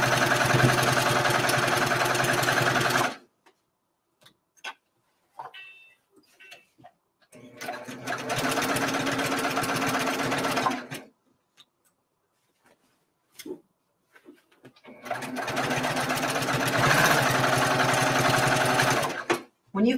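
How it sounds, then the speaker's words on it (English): A sewing machine stitches binding onto a quilt in three long, fast, steady whirring runs. Quiet stretches with a few clicks separate the runs. "It helps on these machines if you've got a knee lift to raise the presser foot and allow the fabric to relax under the needle"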